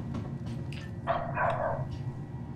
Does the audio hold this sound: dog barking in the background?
yes